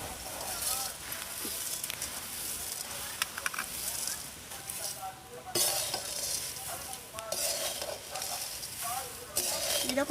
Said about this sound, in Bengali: এবার দিয়ে দিচ্ছি ভেজে রাখা চিড়ে, দিয়ে খুব সুন্দর করে কিন্তু মিশিয়ে নেব।